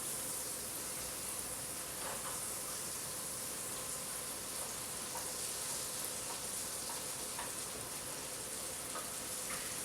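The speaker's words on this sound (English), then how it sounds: "roughly 50 grams of butter. I'm just going to melt that. I had the pan on" About fifty grams of butter melting in a hot pan, giving a steady, even sizzle and crackle that continues throughout with no talk.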